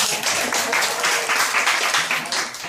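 A conversation class claps together, a short burst of dense, fairly close applause from a small group that stays even and then tails off slightly.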